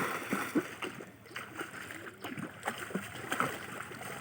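A child swimming and ducking under the water during a swimming lesson, with light splashes and sloshing close by, mixed with soft voices and outdoor background noise.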